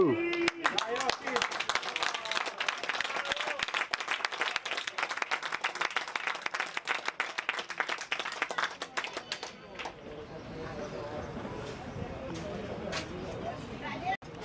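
Spectators at a regional under-14 youth football match applaud a player with dense, sustained clapping that fades into a quieter crowd murmur, while voices shout over it.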